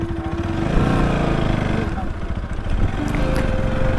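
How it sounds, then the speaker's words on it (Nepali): A motorcycle engine runs close and loud as the bike is turned around near a waterfall river, a steady mid-pitched drone with slight rises and dips in revs throughout. "हामी बाइक यसो फर्काउँछौँ"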